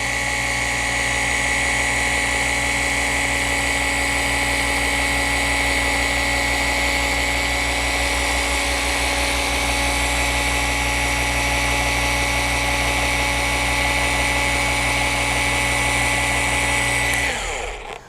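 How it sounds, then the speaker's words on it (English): An electric polisher works windshield glass with cerium oxide glass polish, giving a steady, loud motor whine that holds unbroken for about seventeen seconds before cutting off abruptly near the end. "Keep the polisher moving, don't hover in one spot."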